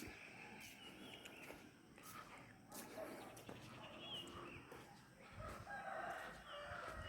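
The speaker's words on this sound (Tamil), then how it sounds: "காலையில் ஆனாலே அந்த கோழி கூவுற சத்தம் கேட்டுறது கரெக்டாக." A rooster crows faintly in the morning, a couple of distant calls rising over quiet outdoor ambience.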